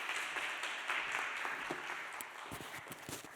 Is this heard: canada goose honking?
no